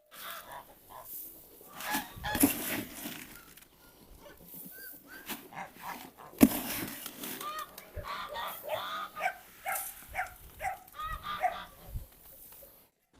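Farmyard poultry, chickens, geese and ducks, with goats nearby, call in irregular bursts of honking and clucking at a moderate distance, with quieter gaps between outbursts.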